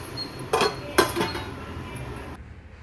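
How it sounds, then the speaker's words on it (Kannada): A spoon scrapes and knocks against a pot while ragi mudde, a thick finger millet dough, is stirred in a home kitchen, giving two or three close clinks over a soft background hiss. "ಸೊ ಅಷ್ಟರಲ್ಲಿ ನಾನು ಮುದ್ದೆ ಮಾಡೋಣ ಅಂಥೇಳಿ ಮುದ್ದೆ ತಿರುಗ್ಕೊತಾ ಇದ್ದೀನಿ"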